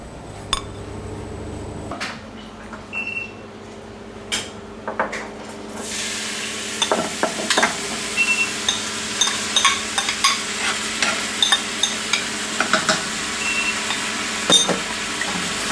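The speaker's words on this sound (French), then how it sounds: "on va passer à la première étape, huile d'arachide et les oignons qu'on va mettre à roussir" Onions browning in peanut oil inside a Maxichef R151A cooking machine: a few quiet clicks at first, then a bright steady sizzle sets in, punctuated by repeated light knocks and stirring clatter.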